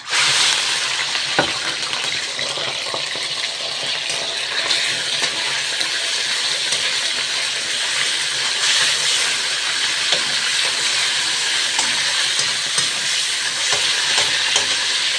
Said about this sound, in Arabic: هبدا حطيت شويه الزيت اللي انا هستعملهم للطاجن، وهبدا احط الصدور اللي انا قطعتها